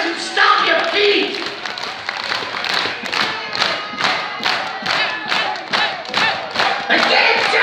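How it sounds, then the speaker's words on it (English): A concert crowd at a show at the O2 Academy in Leicester claps and stomps in a steady, rhythmic beat, loud and close, with cheering voices mixed through it. "Clap your hands and stomp your feet!"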